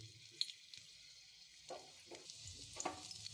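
Garlic going into hot oil in a kadhai (wok) sizzles and crackles softly, with a few stirring scrapes and light pops over about three seconds, fairly quiet and with no talk.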